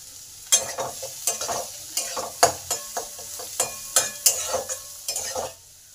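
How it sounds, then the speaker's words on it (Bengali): Chopped onion sizzles in a pan after garlic paste has been fried until reddish, with a utensil scraping and stirring in regular strokes about every half second, close and clear. "রসুনটা লাল লাল করে ভাজা হয়ে গেছে। পেঁয়াজ কুচিটা দিয়ে দিলাম।"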